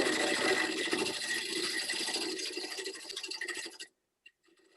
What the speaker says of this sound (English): I start with a pull cut on the base and then turn over smoothly into a push cut.